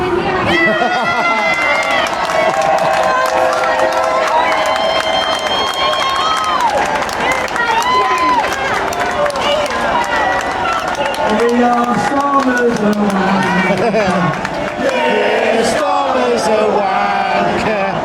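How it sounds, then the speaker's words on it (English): A large outdoor protest crowd on a Unite the Kingdom march applauds and cheers, a dense, sustained roar of clapping, whistles and shouting voices that stays loud and close for the whole stretch. "let's give a massive applause to all of us, so loud that Keir Starmer the wanker can hear us"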